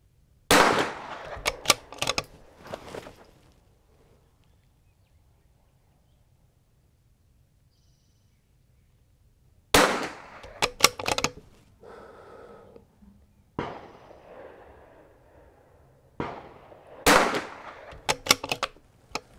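A rifle with a tuned barrel firing a control group at a range: sharp, loud single shots spaced seconds apart, each followed by a short echoing decay, with quiet gaps between.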